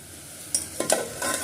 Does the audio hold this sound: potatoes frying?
yes